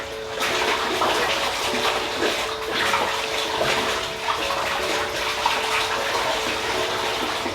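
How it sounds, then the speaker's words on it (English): Water gushes steadily into an aquarium tank for cichlids, a continuous close, splashing pour with no pauses or voices. "I'm just gonna fill this tank up and get things back to copacetic"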